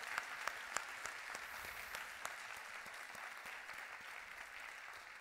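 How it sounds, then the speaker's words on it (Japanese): A church congregation at a gathering in Japan claps for a pastor, a modest, fairly distant wash of applause with a few sharper individual claps near the start, fading slightly toward the end. "give a good clap to Dr. Sarah Kim"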